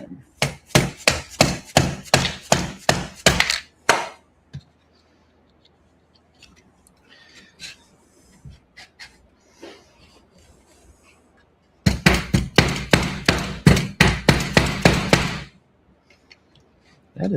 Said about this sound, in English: I may have to hit it with an orange hammer because it's being stubborn.